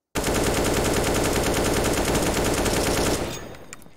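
Sustained full-auto AK rifle fire in the video game CS:GO, a rapid, loud, unbroken stream of shots lasting about three seconds before cutting off and fading.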